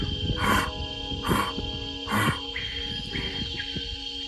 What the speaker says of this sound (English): I've just heard a jaguar roaring directly opposite me